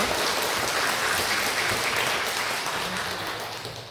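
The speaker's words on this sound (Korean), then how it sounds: "우리 다시 한번 큰 박수로 하나님께 영광 돌립니다" A church congregation claps after a choir's hymn, giving glory to God; steady even applause throughout, moderately loud, slowly fading toward the end, with no talk over it.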